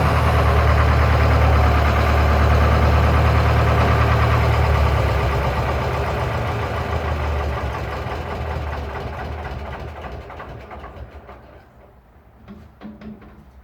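A Lister ST2 diesel engine on a Winget Four/40E dumper runs loud and close with a deep, steady chugging throb, then slowly fades as the machine pulls away.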